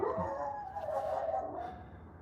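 A dog lets out a drawn-out bark or howl-like whine indoors during a livestream from a forge on a rainy day, one sustained moderately loud vocalisation over a low background rumble.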